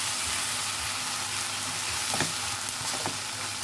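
Ground paste of cashew, melon seeds, green chili, garlic and poppy seeds fries in hot oil for a kalta fish gravy, a close, steady hissing sizzle with a couple of faint spoon clicks.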